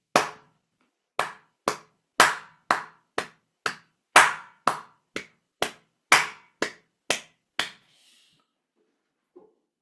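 Hands clap back a written rhythm: fourteen sharp, dry claps in an uneven pattern of long and short gaps, close and crisp against silence, ending with a faint tap.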